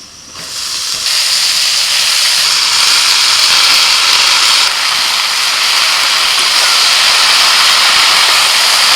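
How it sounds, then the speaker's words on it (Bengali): Washed kalmi greens (water spinach) hit hot oil with dried red chillies, chopped onion, salt and turmeric, giving a loud, steady hiss that jumps up at the start and holds alone throughout. "কেটে ধুয়ে রাখা কলমি শাক দিয়ে দিচ্ছি"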